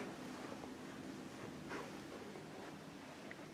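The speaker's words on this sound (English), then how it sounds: "It's windy today." Wind blowing outdoors on a blustery day at an old house, a steady broadband rush with gusty swells and no voices.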